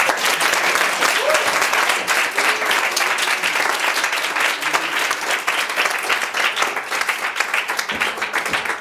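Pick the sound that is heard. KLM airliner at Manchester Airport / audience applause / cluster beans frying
audience applause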